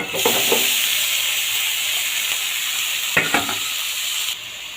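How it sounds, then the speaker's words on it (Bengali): Finely chopped kalai greens sizzling in hot oil in a pan, a loud continuous fry hiss with a couple of stirring scrapes and a slight drop in sizzle near the end. "এরপর দিয়ে দেবো কুচু কুচু করে কেটে রাখা কালাই শাক।"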